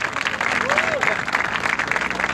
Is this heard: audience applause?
yes